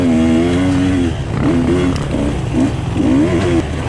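A Husqvarna TE 150 two-stroke dirt bike in a hare scramble race at Dade City revs hard up close, its engine pitch rising and falling in quick bursts as the rider shifts over rough ground.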